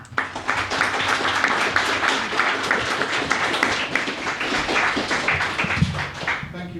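Audience at an EU referendum debate in Glasgow clapping steadily, a dense room-filling applause sustained throughout before tapering off at the very end.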